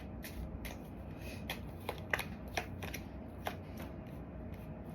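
Tarot cards being shuffled by hand, a soft papery riffle and rustle with several sharper flicks and snaps of card edges over a steady low background hum, no talking.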